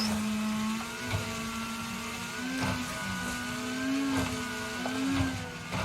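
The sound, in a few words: damaged rally car engine in Wreckfest video game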